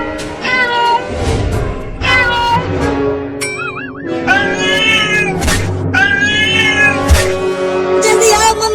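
Cartoon cat meowing repeatedly in a comedy animation, loud drawn-out whining meows in several bursts with a warbling cry in the middle, over background music and sound effects.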